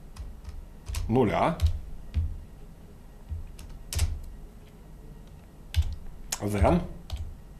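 Computer keyboard typing code during a Haskell programming lesson, several short bursts of clicking keystrokes, close, partly under someone speaking Russian.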